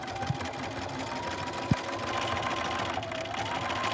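Close and steady, a sewing machine stitches out a name in a continuous whirring hum, with a couple of brief clicks near the start.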